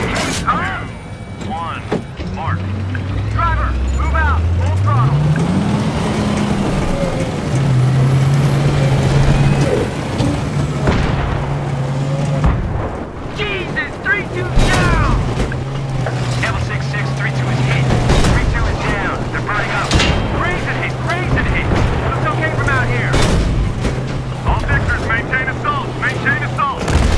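USMC tank from Battlefield 3 driving at full throttle through Tehran, a loud continuous low engine rumble and tread roar with bursts of battlefield noise and radio voices talking over it throughout.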